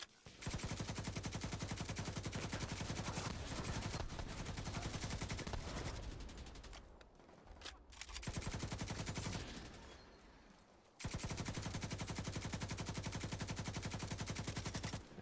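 Sustained rapid automatic gunfire in The Division 2 hammers loudly and close in long bursts, with a brief lull and ragged quieter shots in the middle before the full-volume fire resumes, no speech.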